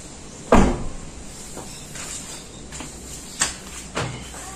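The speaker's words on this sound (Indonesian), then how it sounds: "Anda bisa membuka pintu pengemudi dan pintu baris kedua" Doors of a Wuling Almaz unlocking and opening: a sharp close latch thump first, then several softer clicks and clunks of the driver and second-row doors, spaced over a few seconds with no talk.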